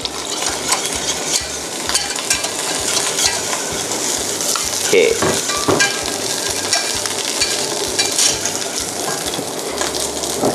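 Sea bass fillet sizzles and crackles skin-side down in hot oil in a pan for several seconds, with a few light clinks and stirring sounds over the continuous frying hiss.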